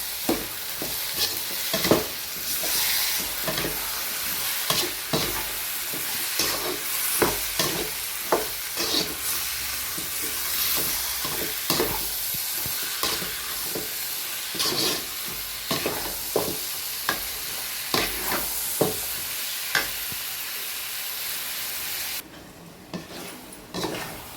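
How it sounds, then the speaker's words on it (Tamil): Lemon pickle with turmeric and chili powder is stirred in a pan, with quiet, repeated scrapes and soft clinks of a spoon over a faint sizzle, at an irregular rhythm. "இதை மாதிரி அப்படியே கிண்டி விடுங்க"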